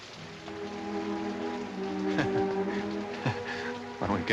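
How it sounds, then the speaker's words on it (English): Rain falling and pattering on surfaces, a soft continuous wash with scattered drips and a few sharper taps, fairly quiet throughout. "It's raining."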